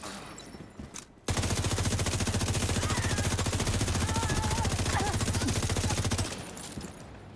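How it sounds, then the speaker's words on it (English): Video game gunfire comes as a long, steady stream of rapid automatic shots. It sounds loud and close for about five seconds, with quieter game sounds before and after. "Just stand here and shoot them"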